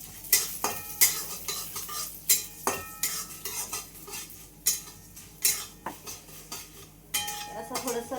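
Spoon stirring urad dal and chana dal as they dry-roast in a metal pan, giving repeated scraping clinks against the pan in an irregular rhythm over a faint sizzle, close-up with no voices.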